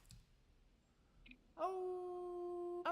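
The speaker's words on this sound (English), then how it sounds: "this is the howl." A character's howl emote in the survival game SCUM sounds as one sustained, tonal, close howl that holds steady for over a second and then cuts off abruptly, after a few faint clicks.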